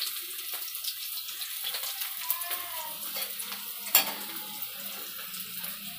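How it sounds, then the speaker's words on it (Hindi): Fried potatoes are lifted out of hot oil in a home kitchen, a soft, steady sizzle with scattered clinks and scrapes of a utensil and one sharper knock near the end, all fairly quiet. "मेरे आलू फ्राई हो चुके हैं, अब इसको हम निकाल लूँगी अच्छे से।"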